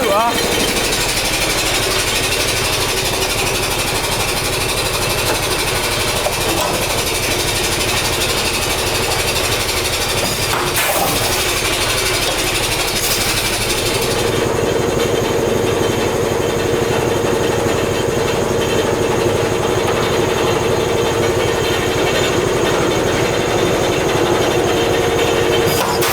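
A Titan jet washer's main motor runs steadily and loudly from start to finish, its note changing partway through.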